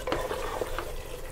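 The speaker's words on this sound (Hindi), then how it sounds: "2-3 मिनट्स इसको भूनूंगी हाई फ्लेम पर।" Mutton and potatoes with spices frying in a pan on high flame, a steady close sizzle with stirring scrapes and light clinks of a utensil against the pot throughout.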